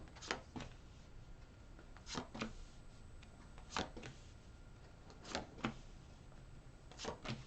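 A deck of tarot cards is cut and riffled, quiet crisp bursts of card flutter coming in paired clusters every second or two against near silence.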